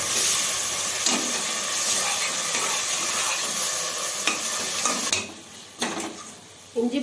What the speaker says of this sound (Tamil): இஞ்சி பூண்டு பேஸ்ட்டு நல்லா வதங்கிடுச்சு.